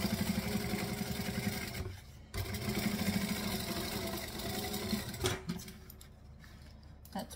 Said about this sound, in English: I'm going to peel these back and top stitch that down like so.